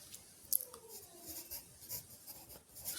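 Chalk or marker strokes on a classroom board, faint scratchy writing sounds in short bursts with quiet pauses between.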